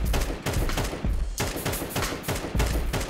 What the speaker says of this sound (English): Tapping is just firing off individual shots